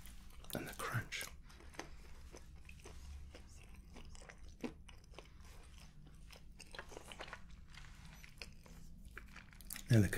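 Twice-roasted cashews are bitten and chewed close to the microphone in a quiet ASMR setting, giving a few sharp crunches followed by softer mouth sounds and faint whispering.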